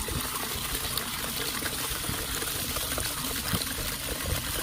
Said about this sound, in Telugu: ఈ విధంగా స్ప్రేయర్ పంప్ మూతి వద్దకు నీళ్లు వచ్చేంత వరకు మనం పోస్తూనే ఉండాలి